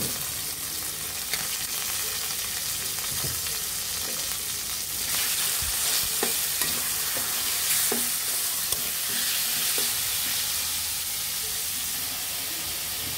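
Chicken pieces frying in a pan over onions softened with salt, a steady close sizzle and hiss with occasional stirring clatter as the meat settles into the hot oil.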